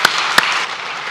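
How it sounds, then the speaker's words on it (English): Applause from a chess tournament audience for Wesley So, a dense hiss of clapping from a crowd with a couple of sharp claps standing out near the start. "Big round of applause."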